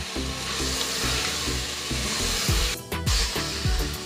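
Mutton browning with red chilli flakes, salt and turmeric in a pan for a mutton stew, giving a continuous sizzle with occasional low thumps and scrapes of stirring close by.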